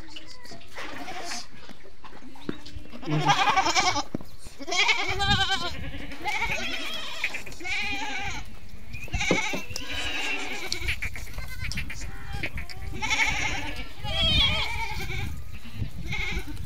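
Sojat goats bleat repeatedly at close range, several calls overlapping over a steady background hiss, with occasional rustling and movement.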